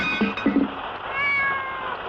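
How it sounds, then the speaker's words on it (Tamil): A house cat meows in a few short calls followed by a longer, drawn-out cry, fairly close and clear with no talking over it. "இந்த பூனை வேற பெருந்தொல்ல"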